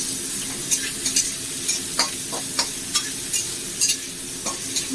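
Chopped chillies and spring onion light-frying in a pan for hotel-style chili chicken: a steady soft sizzle with repeated sharp clinks and scrapes of stirring, close and alone.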